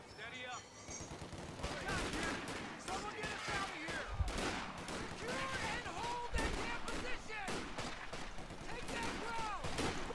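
German machine guns rattle in Company of Heroes 2, with rapid bursts and scattered shots crackling throughout amid a busy battle soundscape, while players talk over the fighting.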